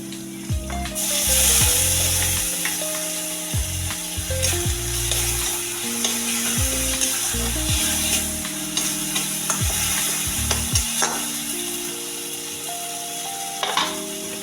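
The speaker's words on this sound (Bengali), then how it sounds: "এবার আমি আদা রসুন বাটাটা দিয়ে দেবো" Ginger garlic paste frying in a pan with already fried onions for a spicy egg curry, a steady sizzle broken by repeated scraping and stirring strokes, close and alone without speech.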